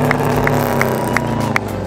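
A Toyota Corolla rally car at Targa Great Barrier Reef 2021 runs with a rough, rasping engine note that drones low and close, pulsing with regular sharp bursts.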